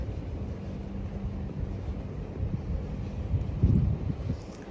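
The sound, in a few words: wind blowing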